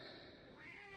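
A domestic cat gives one drawn-out meow in the background, faint but clear, with a slightly rising pitch lasting about a second and no talking over it.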